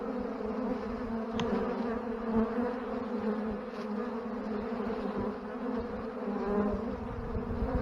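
Honeybees swarm a strong hive's landing board in Ohio, a continuous close droning buzz with individual bees flitting past, steady and fairly quiet throughout.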